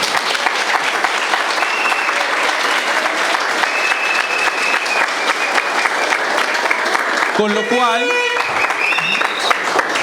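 Steady, dense audience applause continues at a political event in Ibagué, with a voice speaking briefly over the clapping near the end.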